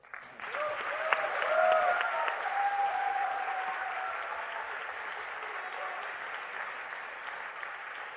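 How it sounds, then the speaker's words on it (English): A crowd at a Hult Prize startup competition gives a warm, sustained round of applause, steady and fairly distant, with faint voices and a whistle-like tone near the start. "Help me give a warm round of applause for Rootopia."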